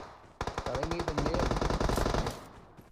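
A loud burst of automatic weapon fire in the battle royale game PUBG Mobile, rapid evenly spaced shots lasting about two seconds before fading.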